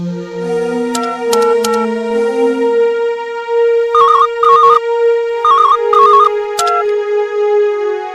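A phone ringtone plays loudly for several seconds, a bright synthetic melody in repeated tonal bursts with short warbling phrases, ringing on its own with no one speaking.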